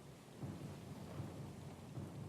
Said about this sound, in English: The storm's pretty loud.